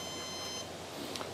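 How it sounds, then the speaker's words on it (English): Electronics bay of a HyperLOC 835 rocket switched on, answering with a faint short high electronic beep near the middle of a quiet moment, with a second brief tone just after. "Hear a beep, confirming it's on."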